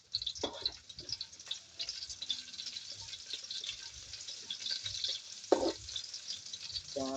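Onion and garlic sizzle in a hot pan, a steady soft frying hiss with occasional stirring clatters and scrapes, heard close and without talk.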